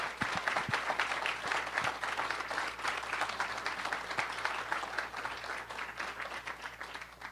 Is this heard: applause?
yes